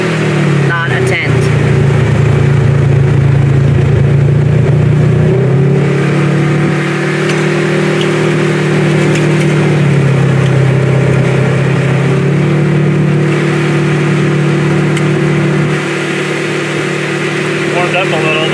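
A warmed-up Polaris RZR off-road vehicle engine runs loudly and close for an extended stretch, a steady droning hum whose pitch shifts up and down as it revs and settles.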